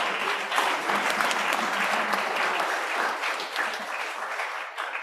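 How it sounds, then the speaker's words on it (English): Audience at a climate justice summer school workshop in Nairobi clapping for a team, a dense, sustained round of applause filling the room for about five seconds, fading slightly at the end, with no talk over it. "can we give a clap to this team?"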